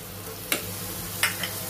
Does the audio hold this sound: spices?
yes